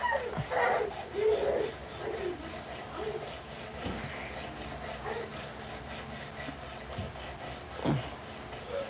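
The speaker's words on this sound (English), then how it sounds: "How do you like that sharpener? Oh, I love this sharpener." A CPM Cruwear knife blade is drawn across stones on a Work Sharp Precision Adjust sharpener, giving repeated soft raspy strokes in an uneven rhythm, fairly quiet and close.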